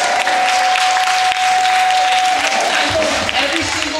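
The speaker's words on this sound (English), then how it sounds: "Let's give a round of applause for her." Audience applause at a Battle of the Bands show rises into a dense, loud wash of clapping that holds steady throughout, with a faint tone and crowd voices underneath.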